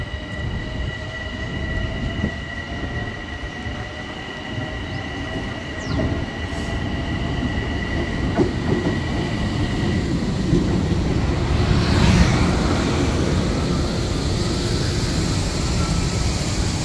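A Long Island Rail Road train of Budd M3 cars rolls into Woodside station, a loud steady rumble of wheels on track with rising metallic squeals and brake hiss as it slows.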